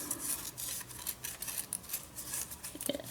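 Scissors cutting paper while decorating envelopes, a rapid series of soft crisp snips in an uneven rhythm, close and fairly quiet, with no talking.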